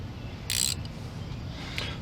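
A ratchet clicks in a quick burst while tightening alternator bolts on a Dodge Caravan, followed by a fainter short click later, over quiet background noise.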